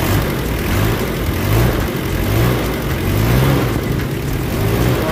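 A non-turbo diesel engine in a Mitsubishi Adventure with throttle delay, vibration and low power idles with a rough, constant clatter. It is revved repeatedly in short, even surges close by.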